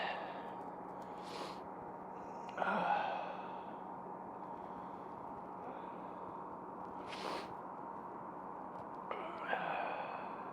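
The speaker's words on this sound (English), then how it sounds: "Sorry about the sniffing, but my nose is running." A few short, sharp sniffs from a runny nose, spaced several seconds apart, close and fairly quiet, over a low steady background hum.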